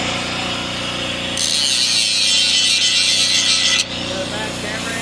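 A power tool grinds a V groove into metal before welding, a harsh, loud, hissing grind lasting about two and a half seconds over a constant motor hum, then easing back to the hum.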